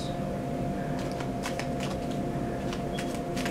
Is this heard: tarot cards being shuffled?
yes